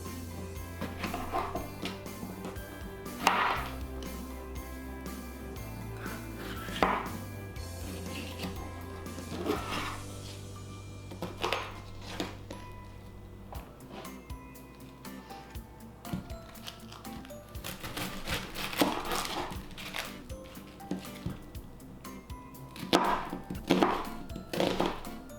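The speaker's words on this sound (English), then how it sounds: "So I'm just gonna cut these all up and put it in this bowl." A knife chops onion on a cutting board, soft irregular thunks and taps spread over the stretch, fairly faint, with occasional louder strikes near the end.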